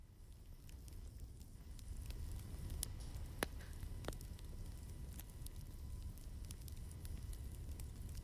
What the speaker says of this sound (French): ça me fait penser à un feu de camp, c'est un truc qui brûle.